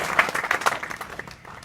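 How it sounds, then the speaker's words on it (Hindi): Short burst of audience applause in a school assembly hall, dense overlapping hand claps fading toward the end. "ताली बजाएं।"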